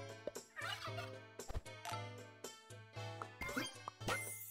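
Cartoonish turkey gobbles from the Super Auto Pets game sound in several quick bursts, mixed with light jingling chimes and short game effects, fairly close and clear.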